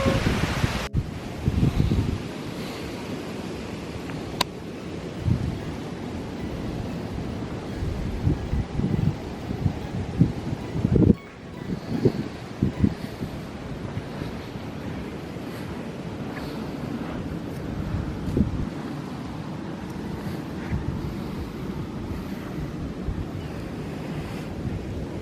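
Ocean surf rolls in on a Fiji beach, a steady wash of breaking waves partly masked by wind buffeting the microphone.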